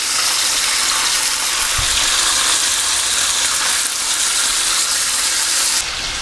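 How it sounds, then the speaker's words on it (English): Streaky bacon fries in a pan with a dense, close, continuous sizzle and crackle, loud and steady throughout. "I want to fry the bacon for about 8 to 10 minutes until it becomes really crispy."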